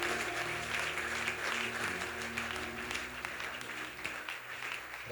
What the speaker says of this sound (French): Acclamons très fort notre Rédempteur.